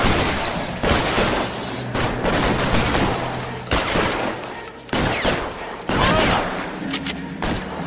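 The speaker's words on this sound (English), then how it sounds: "Shotgun, baby." Loud shotgun blasts ring out in L.A. Noire, several heavy booming shots spaced about a second apart amid dense gunfire and game noise, with talking mixed in.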